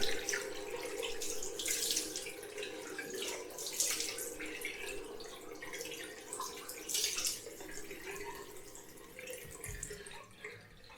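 Cold water running from a tap to rinse the face after a wet shave, a steady close splash and trickle with small spattering drips, and no talking.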